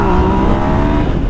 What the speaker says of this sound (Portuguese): Derrapada, patinada louca que deu. Numa aceleradinha de nada.